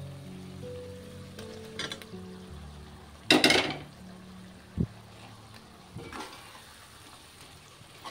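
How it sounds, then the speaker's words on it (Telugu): Pre-steamed okra pieces tumble into a pot of simmering elephant yam and okra stew with a brief, splashy clatter, then a soft bubbling sizzle and quiet stirring carry on alone. "దీంట్లో ఇప్పుడు మనం ఇందాక మగ్గ పెట్టుకున్నాం కదా పక్కన బెండకాయ ముక్కలు, అవి వేసేసుకుంటాం"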